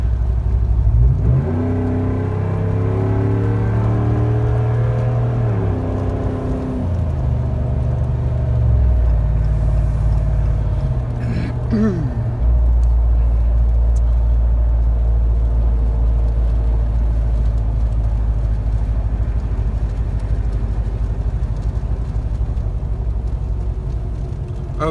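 A 2017 Ram 1500 Big Horn pickup truck cruises at about 52 mph. A low, steady road rumble sits under engine tones that climb and shift as it accelerates, then settle into an even hum. No one talks.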